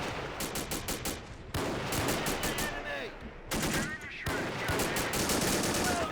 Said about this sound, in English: a lot of our gunners are shooting off now